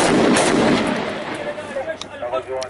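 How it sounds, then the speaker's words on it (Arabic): Sharp gunshot bursts crack out over a loud, rumbling din in Ma'arrat al-Numan, Idlib, Syria, with a few scattered shots trailing off toward the end. "الآن نحن نسمع أصوات ضرب رصاص"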